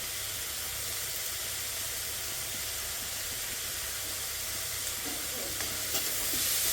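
Onions frying with ginger-garlic paste while being stirred in a pan, a steady close sizzle and hiss throughout with faint scraping of the stirring, no talking.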